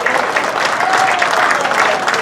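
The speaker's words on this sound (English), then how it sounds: "Let's give her a round of applause." An audience at a community event gives a round of applause, a close, loud burst of many hands clapping steadily with a faint whistle or cheer rising in the middle.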